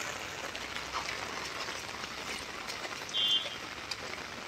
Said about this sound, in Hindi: तीन दिन से लगातार बारिश हो रही है।